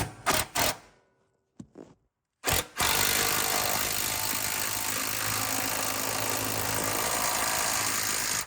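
A few short bursts, a pause, then a long, loud, continuous mechanical buzz as a power tool drives a nut to pull the subframe up on a Nissan Skyline R34 during a suspension upgrade.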